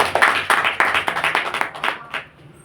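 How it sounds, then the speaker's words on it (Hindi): A church audience claps loudly, a dense burst of rapid hand claps that thins and fades toward the end, with no talk over it. "जोर से ताली बजाइए।"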